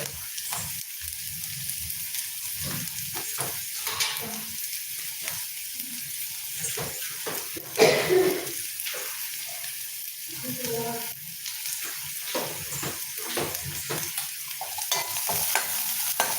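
Onions sautéing in a pan for a brinjal stir-fry, with a steady low sizzle broken by irregular spatula scrapes and clinks against the pan, one sharper knock near the middle, close and moderately loud.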